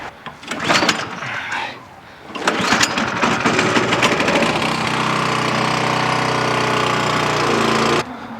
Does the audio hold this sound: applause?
no